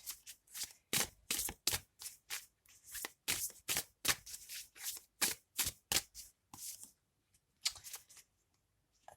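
Robin Hood Tarot cards being shuffled by hand in a rapid run of crisp riffling bursts, close and fairly quiet, pausing briefly near the end with no talking.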